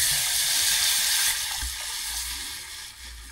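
Water pours into a cooking pot to make broth, a brief hissing splash that fades after about a second into quieter kitchen background.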